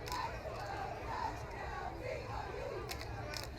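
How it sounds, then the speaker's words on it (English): Home crowd cheering at a high school football game between the Lake Orion Dragons and Southfield A&T Warriors, a steady broad roar from the stands lasting throughout, moderately distant with no clear speech. "Home crowd loving it."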